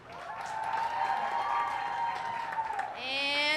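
A fair crowd at a county fair goat show applauds and cheers in a sustained wave of clapping, while an announcer's amplified voice carries over it near the end.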